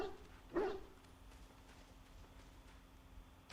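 A dog in a video game gives one quiet bark near the start, and faint hoof-like clopping follows under low ambient background.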